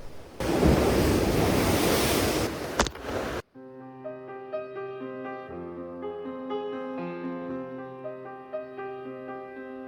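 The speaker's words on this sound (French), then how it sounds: "je vais vraiment me faire projeter par les vagues sur les rochers." Ocean waves smashing against rocks, a loud windy roar of surf for about three seconds that cuts off abruptly into music.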